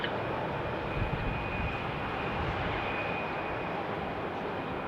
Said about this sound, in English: an Embraer E175 landing on runway 34 left